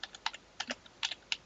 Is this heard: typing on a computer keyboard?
yes